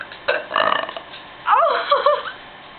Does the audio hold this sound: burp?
yes